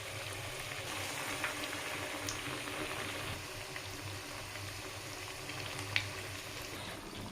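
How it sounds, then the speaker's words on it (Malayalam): Raw plantain bajji in batter frying in hot oil, a steady soft bubbling and sizzling hiss that runs unbroken throughout with a few faint pops. "നമുക്ക് ബാക്കിയുള്ളത് കൂടി ഇതിൻ്റെ അകത്തിട്ട് കൊടുത്ത് ഫ്രൈ ചെയ്തെടുക്കാം"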